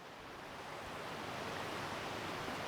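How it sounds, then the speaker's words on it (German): A strong river current rushes past nearby, a dense, steady wash of turbulent water that stays constant and fairly faint throughout, with no voices. "Und hier kommt die fette Strömung."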